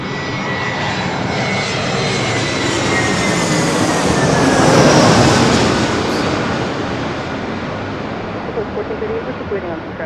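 Delta Air Lines Airbus A321 arriving at LAX from Minneapolis, its jet roar swelling to a loud peak near the middle and then fading away, with whining engine tones sliding downward.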